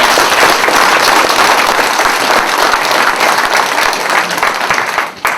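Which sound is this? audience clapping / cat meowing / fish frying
audience clapping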